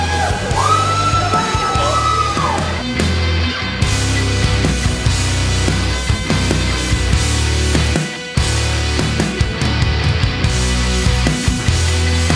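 A crowd at a wild amusement-style event yells and whoops loudly and continuously, with shrill screams rising above the din over music-like backing throughout.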